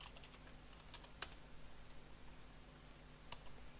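Quiet, steady typing of code on a computer keyboard, a patter of soft key clicks with one sharper tap, heard close up with no talking.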